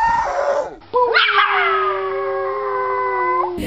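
A pet dog lets out a long, wavering howl up close, starting with a brief yelp, then sustaining a drawn-out tonal wail that slowly falls in pitch before cutting off; no speech.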